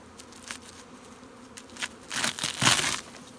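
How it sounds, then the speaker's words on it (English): Honey bees buzz around beehives in an outdoor beeyard, a faint steady hum broken by scattered crackling and rustling, swelling into a louder, closer burst near the end. "Bees are clustered up from that plastic frame over to that one."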